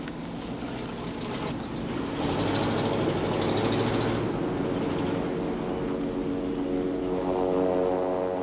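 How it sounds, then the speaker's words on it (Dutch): A propeller airplane taxiing toward the start of the runway on Midway Island, its engine giving a steady, loud drone with rhythmic propeller pulsing that holds throughout at close range. "Het vliegtuig rolt naar het begin van de startbaan."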